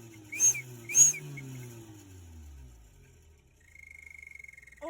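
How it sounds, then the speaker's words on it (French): A small whistle gadget mounted on a petrol car gives two sharp shrill blasts, then a long falling tone and a steady warbling whistle, fairly loud and close with no talking. "on voit qu'il y a un petit sifflet à l'intérieur"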